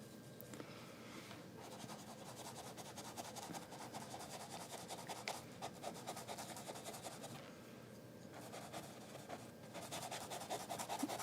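Close, quiet scrubbing of a paintbrush working acrylic paint on canvas, a steady rasping rub that pauses briefly partway through and then resumes.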